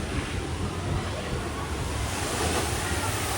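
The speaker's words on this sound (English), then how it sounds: "This is the best shoot drop water ride I've ever ridden, and it's the one that gets you the most wet." Continuous roaring rush of water as a shoot-the-chute ride boat splashes down at Mile High Falls, Kentucky Kingdom, a heavy broadband splash and churn that stays loud throughout, with wind buffeting the microphone.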